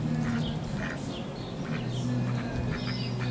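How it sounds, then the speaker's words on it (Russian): A duck quacking near a balcony, several short nasal quacks in irregular bursts over steady outdoor background noise, fairly close and clear. "Уточка, там еще есть."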